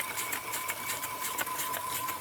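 A small model live steam engine driving a generator runs steadily with a fast, even mechanical chatter and a thin whine, loping along at a constant pace close by.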